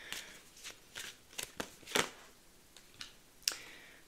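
Oracle cards are shuffled in quick, crisp riffling bursts, with about seven short papery flurries spread over a few seconds, close and moderately quiet, and no talking.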